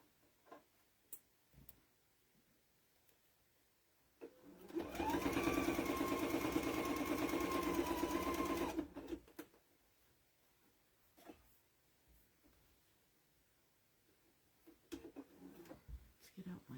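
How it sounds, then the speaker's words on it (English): Sewing machine stitching around a fabric Easter egg silverware holder with a 90/14 needle, a close, loud, fast whirring run of about four seconds, set between quiet clicks and handling noises, with someone talking before and after. "And I'm just going to sew all the way around."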